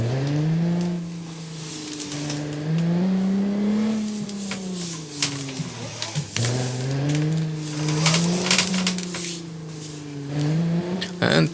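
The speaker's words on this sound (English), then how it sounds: "It's a V6 natural aspirated, 3 liters, so no turbo here, it's just pure driving experience." A naturally aspirated 3-litre V6 car engine with a sequential gearbox in the BeamNG driving game, revving up and down through repeated rising and falling pulls, loud and steady with no talking.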